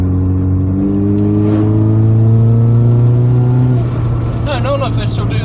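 Supercharged Mercedes-Benz Kompressor engine pulling hard under acceleration, a loud steady rising drone with a whine layered on top, held close and continuous before easing off slightly near the end.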